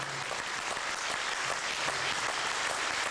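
Audience applause at a Latvian stage show in Līgatne, honoring a singer; steady, moderately distant clapping from a crowd, fairly quiet, with no voices over it.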